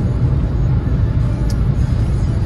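A car cruises along a divided highway, a steady loud road roar and tire rumble with wind noise filling the cabin throughout, no other distinct events standing out.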